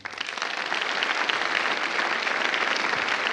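Banquet audience applauding steadily for several seconds, a dense wash of clapping from a large room with no talking over it.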